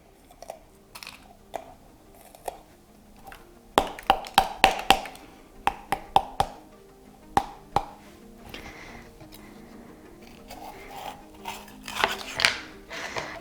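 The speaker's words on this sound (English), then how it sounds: "So I'm just going to be dicing this one. So I'm gonna first slice it." A knife slices a pepper on a cutting board in a home kitchen, producing a series of crisp, irregular taps and cuts at close range, quicker at times and sparse at others.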